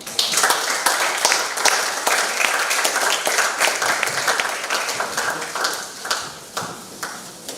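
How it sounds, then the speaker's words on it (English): Audience at an artificial intelligence technology conference clapping steadily, a dense patter of many hands close by that thins slightly toward the end. "Clapping, you can still do it."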